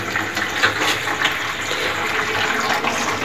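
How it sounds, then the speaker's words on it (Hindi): Water rushing steadily into a toilet cistern after the supply is switched on during a new commode installation, a continuous near hiss and splash of filling with no pauses. "यहाँ से ऑन कर देना है, देखिए आवाज़ आया, इसके अंदर पानी भर रहा है"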